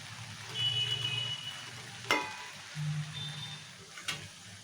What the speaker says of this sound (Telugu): ఇలా ఉడికేంత వరకు ఇలా మధ్య మధ్యలో కలుపుతూ బాగా ఉడికించుకోవాలి బెండకాయ ముక్కల్ని.